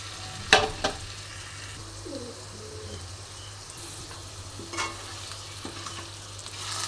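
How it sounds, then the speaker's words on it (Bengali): Thin potato slices fry in oil left over from frying fish, a soft steady sizzle close by with a few sharp clinks and scrapes of a utensil against the pan, and faint background sounds. "এই মাছ ভাজার তেলে আমি কটা পাতলা করে আলু কেটে রেখেছি"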